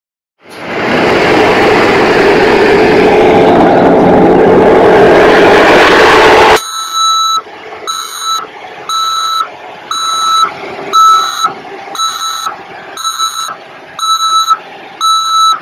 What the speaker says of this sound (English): There's the bitumen truck, so they're going to get ready to do the driveway.